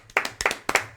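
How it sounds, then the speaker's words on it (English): A few sharp hand claps from a single person indoors, arriving in small irregular bursts across a second, fairly close and crisp with a faint low hum underneath. "Don't clap for yourself."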